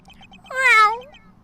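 A single cat meows once, a clear, close, rising-and-falling call lasting under a second, set against quiet surroundings with no talk.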